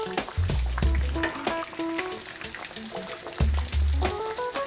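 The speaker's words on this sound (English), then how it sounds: "It's frying nicely right now." Cornmeal-coated fish fries in a pan with a steady, close sizzle, and occasional clinks and scrapes of a utensil stirring or turning it.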